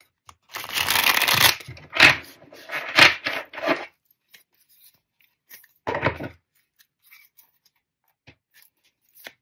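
Tarot cards shuffled by hand in a few quick riffling bursts, loud and close, with short pauses between bursts and a final shorter burst before near silence.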